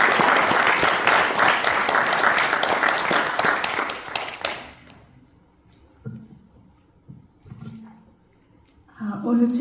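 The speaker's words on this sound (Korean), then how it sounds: "다시 한번 큰 박수로 청해 주시기" Applause from an audience at a Korean church award ceremony, a loud dense burst of many hands that fades out after about four seconds, followed by quiet room sounds and a brief voice near the end.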